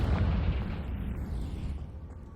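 A Confringo fire spell bursts in Hogwarts Legacy with a deep, rumbling boom that opens loud and fades over a couple of seconds, with no voices over it.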